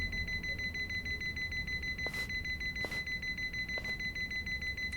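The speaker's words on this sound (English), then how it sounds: "Why is your fucking heart monitor beeping so goddamn loudly and fast?" A heart monitor in the video game Yakuza: Like a Dragon beeps fast and steadily in a rapid electronic pulse that runs throughout, with a few soft whooshes over it and no talk.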